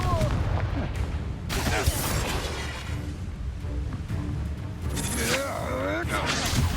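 A Confringo spell blast erupts amid combat in Hogwarts Legacy, with booming impacts and crackling bursts over a dense battle din, and voices heard over the action.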